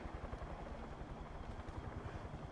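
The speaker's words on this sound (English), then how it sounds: "is that a helicopter? Is that a good helicopter?" Steady, rumbling rotor chop of a helicopter in Far Cry 5, continuous and fairly loud throughout, with no talking.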